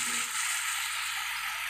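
Lamb pieces sizzle steadily in a hot pan while being fried for biryani, a constant bright hiss that stays even and close throughout.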